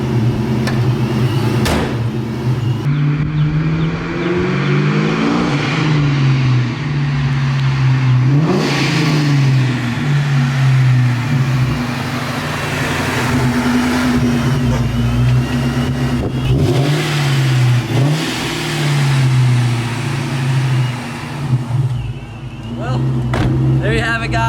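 The engine of a Vortech supercharged NewEdge Mustang revs repeatedly, rising and falling with a whining supercharger over a loud idle, while people talk nearby.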